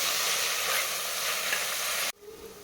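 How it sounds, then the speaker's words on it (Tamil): Onions sautéing in a pan make a loud, close, continuous hissing sizzle that cuts off abruptly near the end, leaving quieter room sound. "வெங்காயம் இப்போ நல்லா வதங்கிடுச்சுங்க"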